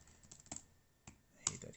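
Keys tapped on the built-in keyboard of a GPD Win Max handheld laptop, a few sparse close clicks with quiet gaps between them and a sharper press near the end.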